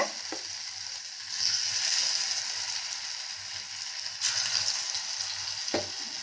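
Raw banana slices shallow-fry in a little oil on a tawa over low flame, giving a steady close sizzle with occasional louder bursts and a few sharp clicks as pieces are moved.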